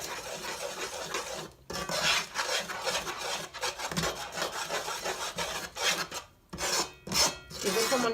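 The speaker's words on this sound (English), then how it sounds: "Keep stirring." Cornmeal coucou being stirred in a pot, a steady close scraping and rasping of spoon against thick batter in repeated strokes with brief pauses, no talking.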